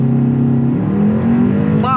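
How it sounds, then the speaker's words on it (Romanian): A Skoda Superb 2.0 TSI with 280 hp and 4x4 holds steady, loud revs on launch control, then begins to pull away as the engine note climbs, with a voice talking over it. "talpă frână, talpă accelerație, launch control active"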